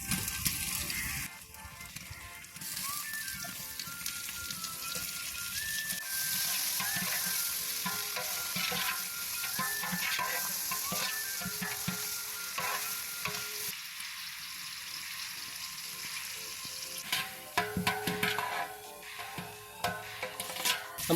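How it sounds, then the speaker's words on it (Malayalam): Onions and tomatoes sauté in a pan for a Kerala-style beef dum biryani, a loud continuous sizzle broken by scraping stirs and clatter from a utensil, with no voices throughout. "നമ്മുടെ സവോളയും തക്കാളിയൊക്കെ വഴന്നു നല്ല ശരിയായിട്ടുണ്ട്"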